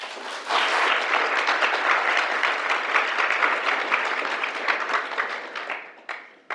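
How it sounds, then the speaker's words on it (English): An audience gives panelists a warm welcome with sustained applause, many hands clapping steadily before fading out with a few last claps. "let's welcome our panelists with a big round of applause."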